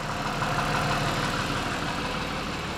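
A car engine idles after being swapped back to its standard injectors, a steady, close, even mechanical hum and chatter with no change in pace and no voices.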